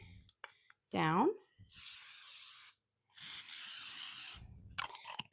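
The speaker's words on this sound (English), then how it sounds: "And then I'm going to give it a nice spray" Cooking oil is sprayed onto a donut maker in two close, sustained hissing bursts, with a brief voice just before.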